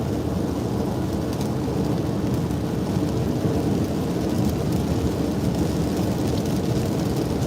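Rain falling during a road trip, a dense, steady hiss and patter with a deep rumbling undertone, unbroken and fairly loud from start to finish.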